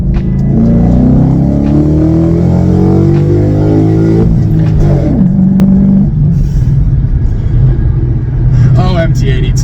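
Car with an MT82 manual transmission and a BAMA 93 race tune accelerating hard, the engine note climbing steadily in pitch for several seconds before a shift, then settling into a lower rumble, loud and close throughout.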